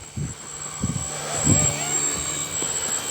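Blade 150S radio-controlled helicopter flying outdoors on a nature walk, a steady high-pitched motor whine and rotor hum with a few brief thumps and footstep-like noises nearby.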